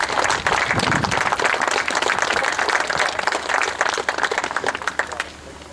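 An audience at a railway heritage centre open day applauds John and his team, a loud, sustained wash of many hands clapping that thins out near the end.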